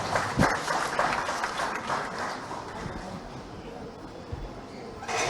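A crowd at an education award ceremony claps to welcome Prabhu Pateriya, a dense burst of applause that slowly thins over several seconds, with scattered louder claps.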